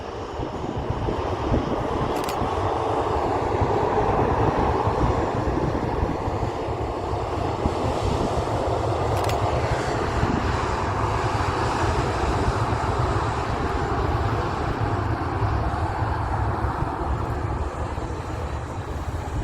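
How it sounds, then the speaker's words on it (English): An Emirates Airbus A380 arrives at Manchester Airport, its engines a steady, broad roar that holds for twenty seconds at a distance, with no voices over it. "You can see the Emirates A380, the next aircraft to arrive."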